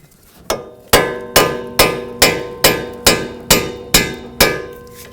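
A hammer strikes steadily to punch a bolt through during CV axle replacement on a 2006-2011 Chevrolet HHR, about ten loud metallic blows in an even rhythm, each ringing briefly, close by.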